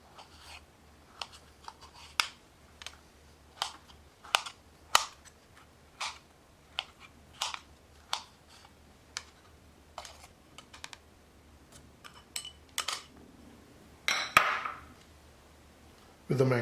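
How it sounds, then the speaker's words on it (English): A knife cuts scooped mango on a cutting board, producing a series of sharp, quiet taps and chops at an irregular steady pace, close by, with a louder scrape near the end. "So once we scoop out, then on the cutting board, you can cut it like this."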